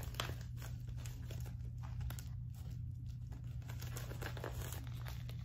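Packaging material is folded and sealed for a shipping parcel, producing close, continuous crinkling and rustling with irregular crisp crackles, alone with no talk, over a low steady hum.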